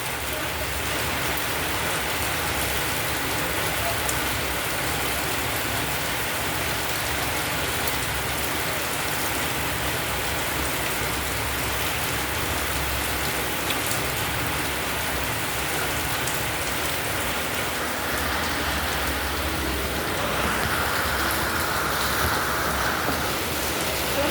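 Steady rain pours down outdoors, a dense, even hiss of drops striking surfaces that holds at the same level throughout, with no voices.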